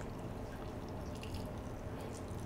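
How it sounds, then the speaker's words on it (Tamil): A small amount of water, about 80 ml, is poured into ground masala for a green fish curry, giving a faint steady trickle and drip, soft and continuous with no talk. "அரைக்கிறதுக்காக கொஞ்சமாக வாட்டர்"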